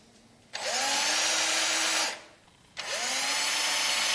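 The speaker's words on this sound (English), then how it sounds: "I come in here and I drill small holes at an angle" A power drill bores small angled holes into a walnut bowl with two loud, close bursts of whining, rising motor noise about two seconds each, separated by a brief lull.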